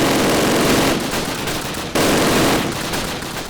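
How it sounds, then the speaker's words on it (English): Continuous, loud bursts of MG42 machine gun fire from the Call of Duty video game roar in two long sustained volleys with a short break between them, with no talk. "it's an MG42 fight"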